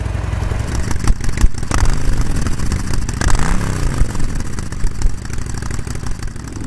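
A Harley-Davidson Sportster motorcycle engine starts up and settles into a loud, close, lumpy idle with an uneven throb and a couple of small blips of throttle.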